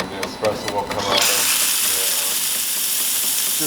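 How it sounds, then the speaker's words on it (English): A few ratcheting clicks give way to a strong, steady hiss of steam blowing out of a Jura E8 espresso machine close by, with no milk hose attached, continuing without a break. "just throwing steam here because we don't have a hose hooked up for the milk."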